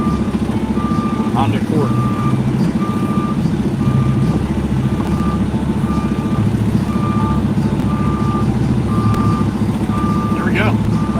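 A truck's reversing alarm beeps in a steady, evenly spaced series throughout, over a loud rumbling engine while the driver parallel parks on a street; someone talks over it.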